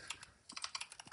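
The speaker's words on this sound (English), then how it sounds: "I can also start typing" Computer keyboard typing in a software tutorial, a quick run of soft, close key clicks with a brief pause and a sharper final tap, no voices.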